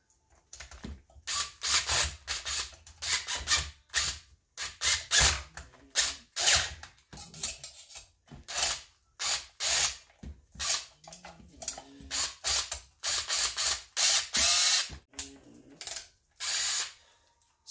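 Ratcheting and metallic clicking from muffler bolts being cranked down on a Stihl MS461 chainsaw, close and loud, in repeated bursts of rapid ratchet strokes with short pauses, no talking.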